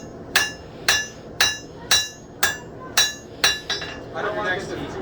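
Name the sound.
hammer striking hot metal while forging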